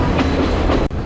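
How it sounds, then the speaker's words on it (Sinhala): The Ella Odyssey train in Sri Lanka rumbles along through tall trees, a close, dense roar of wheels and carriage noise with faint rhythmic clacking, briefly dipping before resuming. "උස ගස් අස්සේ මේ ට්‍රේන් එක යනකොට"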